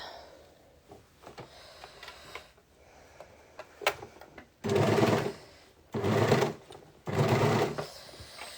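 A sewing machine stitches through three layers of a dress with tulle overlay, starting with a faint slow stretch and then running in three loud, close bursts separated by short pauses.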